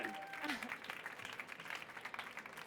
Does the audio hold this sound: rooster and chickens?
no